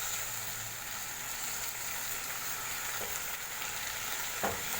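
Washed rice sautéing in a pan with vegetables, a soft steady sizzle with faint occasional scrapes of stirring, quiet and close, no voices.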